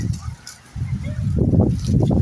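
Territorial chickens on a windy farm, giving rough honking, clucking calls close by that rise and grow louder toward the end, with wind noise throughout.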